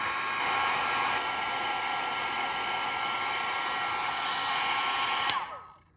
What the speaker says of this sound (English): we're going to go ahead and use our heat tool and get this embossing powder melted on the back